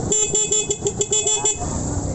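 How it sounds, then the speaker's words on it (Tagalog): A series of short, loud Honda Supremo motorcycle horn toots in quick rhythm, close by, with engine noise underneath. "pati na yung busina niya"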